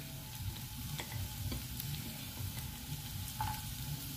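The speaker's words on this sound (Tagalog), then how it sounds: "Put the garlic on." Garlic frying in a pan, a soft continuous sizzle with periodic scraping and clicking as it is stirred, close and fairly quiet.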